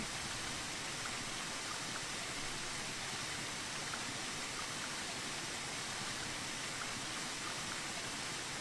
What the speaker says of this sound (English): That's it, water's flowing in.